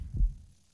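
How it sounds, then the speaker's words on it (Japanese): A heartbeat sensor in the horror game Yomawari gives one deep, muffled thump that fades into a low, dull hum. It is a short, soft pulse with no voices. "心音センサーが働き始めました。"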